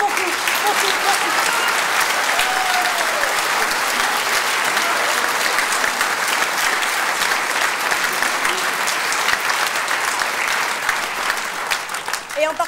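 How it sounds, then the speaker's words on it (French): Sustained applause from a large crowd, dense and steady clapping filling the room throughout, easing slightly near the end. "Je voudrais vraiment qu'on les applaudisse."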